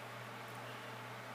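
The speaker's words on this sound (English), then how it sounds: "you may hear a fan in the background now," A steady low electric hum with broadband airy noise, constant throughout and fairly faint, like a fan running in the background.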